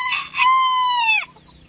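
A Spanish breed rooster crows once, loud and close, a strained drawn-out call that breaks off abruptly.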